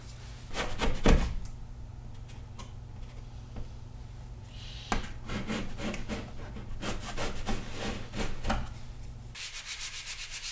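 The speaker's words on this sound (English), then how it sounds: "I'll knock those ridges down, give a light sanding" Repeated rough scraping strokes of sanding a drywall patch, in uneven bursts with pauses, over a steady low hum in the room.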